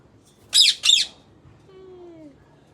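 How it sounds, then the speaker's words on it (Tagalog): Pet bird giving two sharp, loud squawks in quick succession, followed by a fainter, drawn-out whistling call in an otherwise quiet room. "Our bird."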